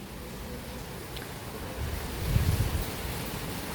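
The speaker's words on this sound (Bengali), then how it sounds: "অনেক বৃষ্টি বাইরে।" Heavy rain falling outside a rooftop rented room forms a steady broadband wash, swelling louder for a moment midway before settling back to a constant roar, with no voices.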